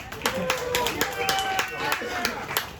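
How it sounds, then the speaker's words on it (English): Audience applause at a live entertainment show, a steady run of sharp hand claps at moderate distance, partly under people talking nearby. "Give her a round of applause."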